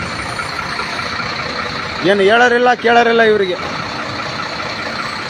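Mine lorries idle in a traffic jam at a mines and geology department checkpoint in Vijayanagara district, giving a steady low engine rumble. Someone speaks briefly over the drone partway through.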